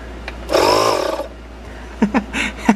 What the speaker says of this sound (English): He's just pushing this pump right here, this automatic electric pump or whatever, and then you can see the bottle set to fanning maintain up